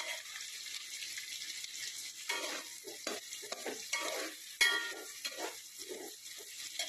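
Drumstick (moringa) pieces frying in a pan for munakkaya pappu charu while being stirred, a faint steady sizzle broken by scraping stirs that come in short, uneven strokes.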